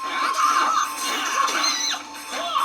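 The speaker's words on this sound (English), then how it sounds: "Oh, she let out a little scream." A female fighter in a Sega Dreamcast fighting game, Taki, lets out a sharp high-pitched scream after taking a kick. The cry rises and falls for a few seconds over game sound, loud and close, with no talk.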